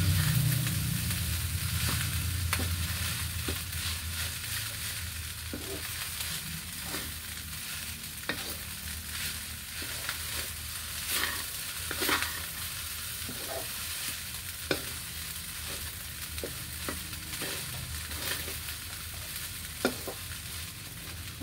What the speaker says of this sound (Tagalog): Prito lang ako guys na itlog ka partner nito.